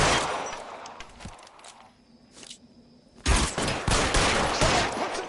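Gunfire in the L.A. Noire video game, dense bursts of shots at the start, a quieter lull with a single sharp report, then loud rapid volleys returning for the final seconds.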